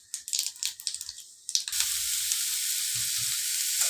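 Five-spice seeds tempering in hot white oil in a wok, a loud steady sizzle bursting in after a few soft clinks and taps, then hissing on close and continuous.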